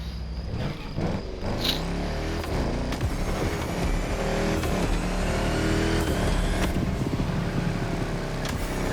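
An Audi R8 LMS GT2 race car in the driving game The Crew Motorfest roars continuously at high revs, a loud sustained engine note rising through the gears with brief shift dips, alone without talk.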